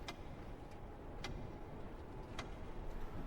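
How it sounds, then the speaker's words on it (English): Faint, sparse ticks of a clock, a few evenly spaced clicks over a soft steady background hiss. "the ticking from a grandfather clock"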